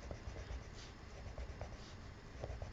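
A marker colors dark green shading onto paper in an adult coloring page. Quiet, soft scratchy strokes repeat steadily and close up, with no talking.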